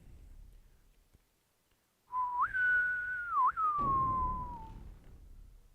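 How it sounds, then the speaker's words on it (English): A single clear whistle calls a horse in Red Dead Redemption, rising and then wavering for a couple of seconds after a quiet pause, followed by a low rumble. "Oh, I forgot that I whistled for my horse."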